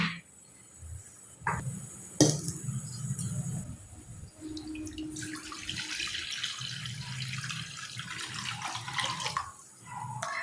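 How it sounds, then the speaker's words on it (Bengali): Running tap water pours into a kitchen sink to wash cut potatoes, a steady close splashing rush with a few louder knocks and sloshes as the pieces are moved about. "আলুগুলো সব কাটা হয়ে গেছে, এবার এগুলোকে একটু ধুয়ে নিতে হবে।"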